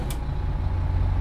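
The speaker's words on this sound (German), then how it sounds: "So, machen wir mal den Motor an." City bus engine in the OMSI 2 driving simulator, Rheinhausen line 51, running with a steady low diesel rumble, preceded by a brief hissy burst at the very start.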